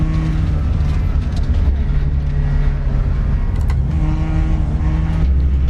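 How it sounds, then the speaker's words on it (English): A race car engine in the RaceRoom sim racing game drones steadily with a buzzing, somewhat rough tone, holding a constant loud level throughout without clear gear shifts. "the engine just doesn't sound great"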